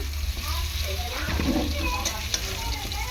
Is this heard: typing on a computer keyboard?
no